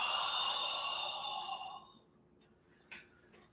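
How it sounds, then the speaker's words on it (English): Long, breathy exhale from a qigong instructor during a breathing exercise, fading out over about two seconds, followed by a quiet pause and a short soft breath. "breathing out"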